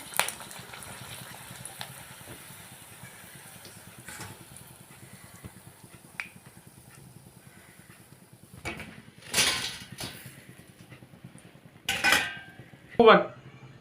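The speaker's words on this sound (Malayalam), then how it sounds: "ബജി മൂത്ത് വന്നിട്ടുണ്ട് നമുക്കിത് എടുക്കാം" Fried chilli bajji lifted from a pan of hot oil: soft sizzling underneath, punctuated by several sharp metallic clinks and scrapes of a utensil against the pan, moderately close.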